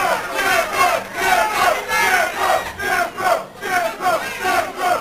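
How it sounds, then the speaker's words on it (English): Crowd at a wrestling show for a match between Gino Martino and Scarecrow, with a small section of fans cheering and shouting in surging waves that swell and fade every second or so. No voices speak over the noise. "Scarecrow with a little section of fans over to my right cheering for him."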